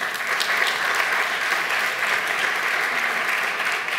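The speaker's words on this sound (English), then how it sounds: "Who's clapping?" Steady audience clapping at a political talk, a dense even wash of applause held at constant loudness throughout with no voices over it.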